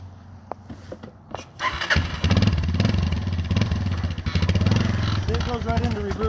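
A 1985 Honda Big Red three-wheeler engine, in need of a carb kit and spark plug, catches and runs with a loud, steady motorcycle-like drone as it is ridden around a yard, with voices in the background.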